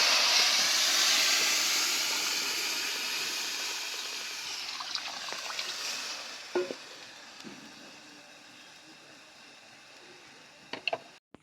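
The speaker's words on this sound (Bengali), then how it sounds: "তেঁতুল রাখা গুলি জল টকের জন্য এবার আমি ঢেলে দেবো।" Tamarind water poured into a hot frying pan with okra, an immediate loud hissing burst of steam that gradually dies down, followed by a few sharp clinks of utensils.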